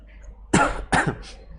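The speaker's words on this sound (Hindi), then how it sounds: "खांसी आ गई।" Two sharp, close coughs come in quick succession from a person during an accounting lecture, with a quiet room around them.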